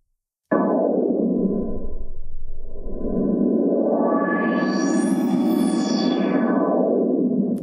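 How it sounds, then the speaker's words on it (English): A sustained buzzy synth tone runs through a filter that sweeps down to a muffled low, then opens up into a bright, ringing peak before closing again. "So now you will hear it in terms of actually the filter being applied."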